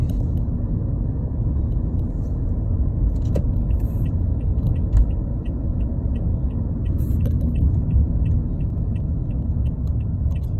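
Car driving along a residential street with a 40 km/h limit, heading straight toward a stop sign and turning left. Steady low road rumble and engine hum fill the cabin, with faint clicks and ticks above.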